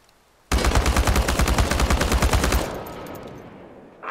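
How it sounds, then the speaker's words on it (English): A full-auto rifle in the game Chernobylite fires one long, rapid, evenly spaced burst that empties the magazine in about two seconds, loud and close, then leaves a fading echoing tail. "This exercise is about using full auto mode and emptying an entire magazine in one burst."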